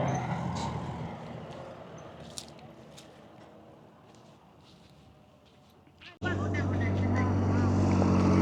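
A tractor gives a farm ride at Wymeswold Fruit Farm's strawberry fields near Leicester. After voices and quieter background, its engine cuts in abruptly with a loud, steady, close low rumble that continues to the end.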